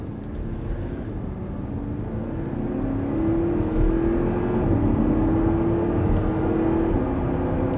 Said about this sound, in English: That's a V8 sound.